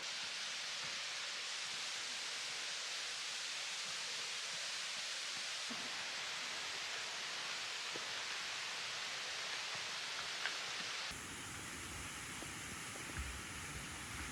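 Steady rushing water fills the whole recording, a continuous broadband roar of a nearby waterfall among pools on the Echo Lake hike near Vancouver, with the tone shifting slightly near the end.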